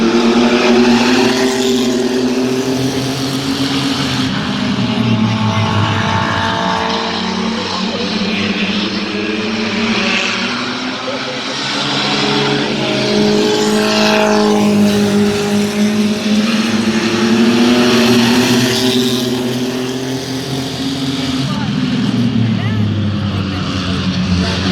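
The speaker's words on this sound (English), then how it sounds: "Good three-way battle in our mini truck heat race." Mini trucks in a heat race at Midvale Speedway, engines droning and rising and falling together as the pack circles the track, with steady commentary over the loud, continuous roar.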